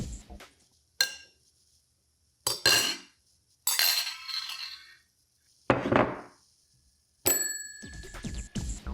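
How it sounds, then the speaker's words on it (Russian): Plates and forks clinking in a kitchen, with forks dropped onto the floor: a series of separate sharp metallic clanks and rattles, each ringing briefly before fading, spaced apart by short silences and fairly close. "звякая тарелками, роняя вилки на пол"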